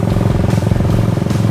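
A Raider 150 Fi motorcycle engine, during break-in, revs loudly up close, a rough, pulsing putter with no voices.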